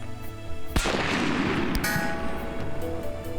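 A single loud sniper rifle shot cracks out, followed by a long rolling boom and echo that decays slowly over steady background noise, with a faint secondary impact a second later.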